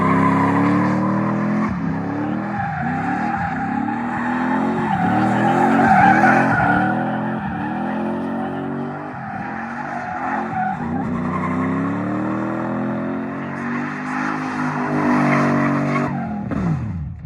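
A car with a UZ V8 engine swap slides and drifts, tires skidding and squealing loudly and continuously over a steady engine roar, with rhythmic revving surges throughout.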